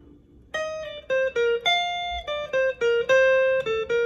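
A guitar plays a short lick from a solo, a string of clean, bright single notes picked in a lively rhythm with a few held tones, up close and alone.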